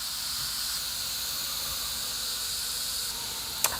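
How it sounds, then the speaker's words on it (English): An Instant Pot pressure cooker vents steam from its release valve while cooking shrimp risotto, producing a loud, steady hiss throughout, with a brief sharp click near the end. "And then now we're going to turn it to the venting. Be very careful not to get yourself in the steam."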